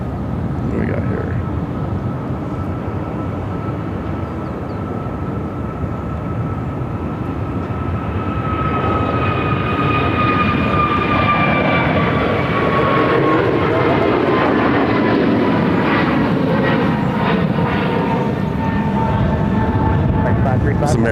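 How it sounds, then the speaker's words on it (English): An American Airlines Airbus A321 takes off from runway 7 left at Phoenix Sky Harbor, bound for Newark. Its jet roar builds steadily to a loud, sustained rush with rising whining tones. "headed to Newark on an A321. Visual separation, runway 7 left, clear for takeoff."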